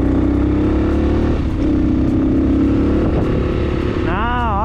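A delivery motorcycle in Chile revs loudly close by at a traffic light after a repair, holding a steady buzzing drone with a brief dip and a rising pitch sweep near the end.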